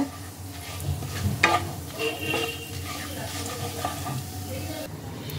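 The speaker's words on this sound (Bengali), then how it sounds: "ফোড়নগুলোকে খানিকক্ষণ তেলের মধ্যে নাড়াচাড়া করে নেব।" Dry red chillies and bay leaves, with whole cumin, crackle in hot oil as a spoon stirs them around the pan; a moderate, close sizzle with soft scraping and clinks, no one speaking.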